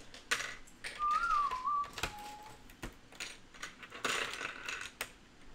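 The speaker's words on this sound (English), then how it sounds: "Oh, but you can whistle it?" A person whistles a short, wavering song phrase during a casual live LEGO building stream, the melody rising and falling briefly amid clicks and handling noise, with no talking over it.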